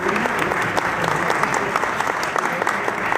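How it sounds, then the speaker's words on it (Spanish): An audience applauds a speaker at a conference session on AI in independent communication, with dense, steady clapping from many hands throughout, close and fairly loud, with no voices. "un aplauso para Santiago"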